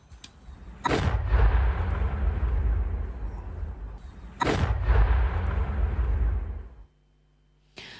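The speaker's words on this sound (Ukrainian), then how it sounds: "Увага! Вибух!" Two powerful explosions a few seconds apart, each a sharp blast followed by a long, rumbling roar that fades before a brief quiet: the controlled detonation of a Kh-59 missile warhead in a crater.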